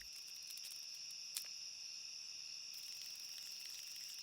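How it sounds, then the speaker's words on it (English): Insects chirping in the dark of a city at night: a continuous high, shimmering cricket-like trill, steady and fairly faint, with one brief soft click partway through. "darkness-loving insects begin to prowl out of sight"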